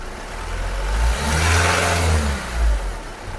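A car engine runs close by during a MAP sensor check, revving up in two swells of rising then falling engine roar over the idle.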